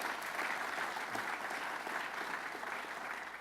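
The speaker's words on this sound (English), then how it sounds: "Let's give him a round of applause, County Executive Ed Day." An audience at a Rockland County public event gives a round of applause for County Executive Ed Day, a continuous, moderately distant patter of many hands that stays even throughout.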